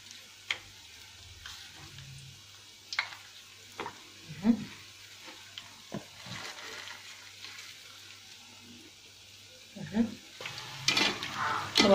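Zalabia dough frying in hot oil, a faint steady sizzle broken by scattered clinks and stirring knocks, with louder bubbling toward the end.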